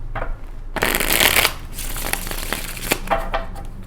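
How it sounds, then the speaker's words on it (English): Tarot cards are riffled and shuffled steadily up close, a dense crisp flutter lasting several seconds with a few sharper snaps. "let's pull your tarot here"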